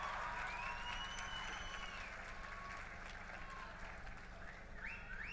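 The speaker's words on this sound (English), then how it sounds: "round of applause for the most amazing host and hostess of the year" A room of people at a youth awards night applauds the host and hostess in a steady, sustained wash of clapping with a few bright whistles cutting through, voices mixed underneath.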